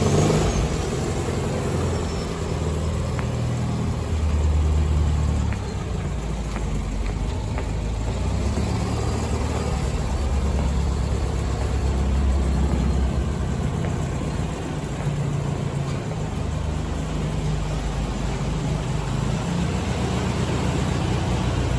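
Steady low engine drone and road rumble from a 1967 VW Beetle under restoration while driving, a constant close hum without talk.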